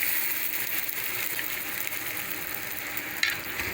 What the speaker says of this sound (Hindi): हमने इस प्याज को पकाना है, तब तक के फ्राई करना है जब तक कि ये गोल्डन कलर में ना आ जाए